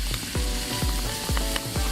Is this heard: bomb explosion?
no